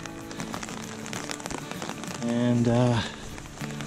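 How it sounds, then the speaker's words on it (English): Steady rain falling on a mountain trail during a backpacking hike in the Smokies, a constant patter under a voice and other nearby sounds. "The rain has moved in"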